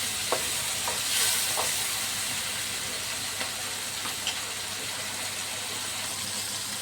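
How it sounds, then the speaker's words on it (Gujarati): Tanjariya greens cooking in hot oil in a pan, giving a steady loud sizzle with faint stirring scrapes now and then, close and continuous, no voices. "હવે આપણે થોડીક વાર તેલમાં ભાજીને ચડવા દઈશું"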